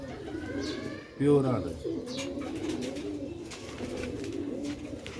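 Sialkoti black-faced pigeons coo in soft, repeated throaty rolls nearby, with someone briefly speaking over them.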